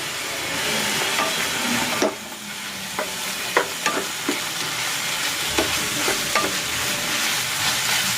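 Tuna and tofu sisig stir-frying in a hot pan after soy sauce, calamansi, pepper and seasoning go in, a steady loud sizzle broken by scraping clacks of the spatula stirring at irregular intervals.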